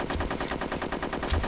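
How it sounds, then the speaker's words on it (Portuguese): Rapid machine gun fire in the N64 game Conker's Bad Fur Day, a fast continuous rattle of evenly spaced shots, fairly quiet, heard on its own. "acho que era tu mesmo me metralhando"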